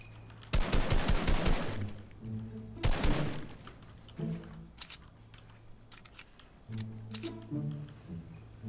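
Sniper rifle fire in a video game, heard as loud rapid bursts of shots near the start and again around the middle, with quieter scattered reports afterward.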